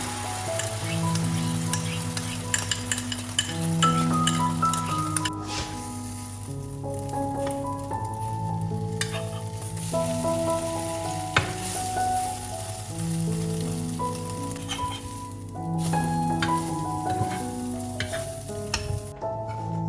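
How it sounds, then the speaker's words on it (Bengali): An egg fries in a small amount of oil in a wok, giving a steady, continuous sizzle that runs the whole time beneath background music. "কড়াইতে অল্প পরিমাণে তেল দিয়ে ডিমটা ভালো করে ভেজে নিই"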